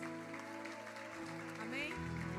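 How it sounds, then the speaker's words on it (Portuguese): A church conference audience applauds, a sustained wash of clapping under a dense layer of voices and crowd sound that continues throughout. "Uma salva de palmas para eles."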